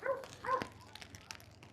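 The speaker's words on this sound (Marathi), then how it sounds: "बुबू भुकायले." A small dog gives a couple of quick, high yips or barks up close, with faint rain or outdoor ambience underneath on a trip to a waterfall.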